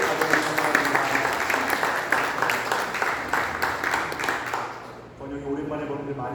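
A church congregation claps for an elder at a Sunday service, with dense, sustained applause that tapers off near the end while voices carry over it.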